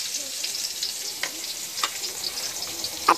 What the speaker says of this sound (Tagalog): ilalagay na rin natin ang ating sibuyas. Haluhaluin lang ito ng haluhaluin.